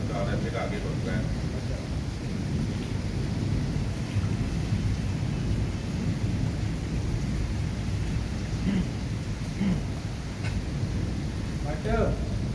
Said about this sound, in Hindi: जबरदस्त किस्म की बारिश हो रही है।